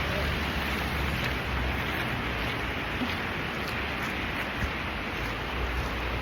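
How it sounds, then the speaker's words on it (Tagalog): Steady rain falls outdoors while people walk toward a licensing office, a continuous broadband hiss that stays even and fairly loud throughout, with no voices heard. "Umulan na."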